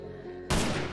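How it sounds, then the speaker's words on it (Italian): A gunshot in the Minecraft video game, one sharp loud burst arriving abruptly after a steady tonal game sound, then a noisy decaying tail, with no talking. "Ora gli sparo."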